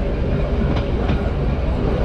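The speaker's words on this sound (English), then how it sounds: "And it looks like we're pulling into Trai Mat train station." Da Lat steam train in Vietnam pulling into Trai Mat station, a steady close rumble of railcars with rhythmic clickety-clack from the wheels on the rails.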